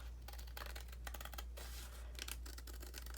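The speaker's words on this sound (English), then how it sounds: "I feel better just taking a sliver off with the scissors" Small scissors snip a thin sliver off a paper envelope in a quick run of close, crisp cuts, clicking and rustling over a steady low hum.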